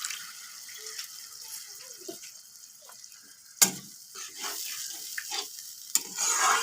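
Spice paste for Assamese koldil frying in a pan while being stirred: a quiet, steady sizzle with scattered soft scrapes and one sharp knock midway, the frying growing a little louder toward the end.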